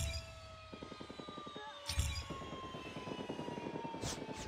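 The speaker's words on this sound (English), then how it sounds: "Stealth chopper inbound." In the Call of Duty Mobile game, a stealth chopper flies in with a rhythmic rotor thump and engine drone, joined by game effects and a couple of sharp bursts.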